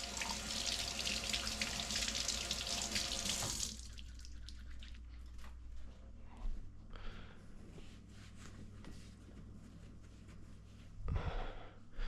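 A kitchen faucet runs hard for about four seconds with a loud, broad rush of water, then shuts off, leaving faint clinks and handling sounds with one brief splash near the end.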